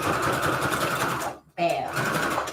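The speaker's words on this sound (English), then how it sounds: "Put it back and let's sew it right back together." A sewing machine stitches paper trim back together with a rapid, steady mechanical chatter, close and clear, pausing for a brief moment before resuming.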